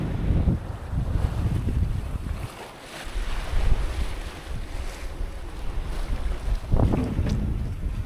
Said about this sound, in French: On est sous voile depuis ce matin.